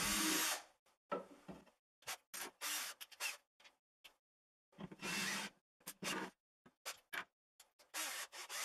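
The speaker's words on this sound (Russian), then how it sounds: "Обязательно сверлю тонкие направляющие отверстия и фиксирую стойку последовательно на 4 самореза." A power drill and driver bore thin pilot holes and then run screws into a wooden wardrobe stand, giving a series of short, loud whirring bursts separated by silent gaps, close up with no talking.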